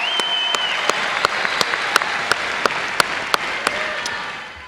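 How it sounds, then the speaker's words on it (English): A commencement crowd at the SUNY Broome 2019 ceremony applauds the graduating class with a dense, sustained roar of clapping, a few sharper claps poking through, as a faint tone glides in the background. "Let's give them another huge round of applause"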